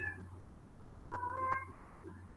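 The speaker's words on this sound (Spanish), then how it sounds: "un gato quejoso por acá" A complaining cat meows twice in quick succession, fairly close and clear over a low steady hum, with a quieter whine trailing off near the end.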